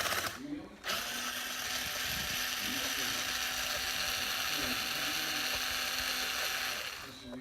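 A small hand driver or ratcheting tool whirs steadily at close range while removing button head screws from an 8ight-X RC buggy during a shock oil change. A brief pause comes early, and then one long continuous run follows.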